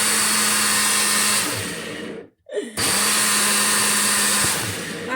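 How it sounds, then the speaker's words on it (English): A Ninja blender whirring loudly as it blends mildly warm bulletproof coffee, a steady motor roar that cuts out briefly partway through and then starts up again at full strength. "So I'm gonna put it in my Ninja blender to Ninjafy it."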